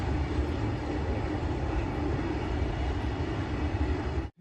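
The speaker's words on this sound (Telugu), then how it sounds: "okay the train guys" A loud, continuous rumble of a train passing close by, steady throughout before cutting off abruptly.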